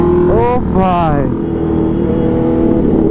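Superbikes on the NH2 national highway between Kolkata and Bolpur rev hard, the exhaust note climbing in pitch twice in quick succession before settling into a loud, steady roaring drone close by.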